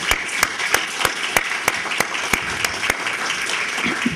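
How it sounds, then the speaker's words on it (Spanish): An audience at a lecture claps as a speaker is introduced, a steady wash of applause punctuated by sharp regular claps near the microphone, continuous for the whole stretch. "Por favor, Patricia, aplauso para ella."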